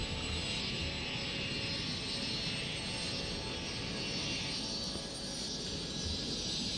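A passenger airliner comes in to land at an airport in the Cities: Skylines game, its jet engines giving a steady, broad roar that holds evenly throughout with no talking.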